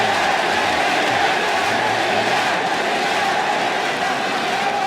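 Large esports arena crowd at the 2014 League of Lolcats World Championship group stage, Taipei Assassins versus Team SoloMid, roaring and chanting continuously in a dense, sustained wall of voices.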